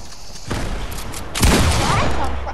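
Grenade explosions in the video game Fortnite: a sudden blast, then a second louder, rumbling explosion, with a noisy tail after each.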